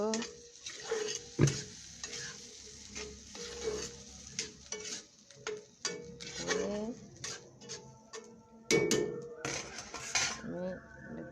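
Chickpeas tipped into a pan and stirred, metal utensil clanking and scraping against the pot in irregular bursts over a low simmer, with brief voice sounds in between.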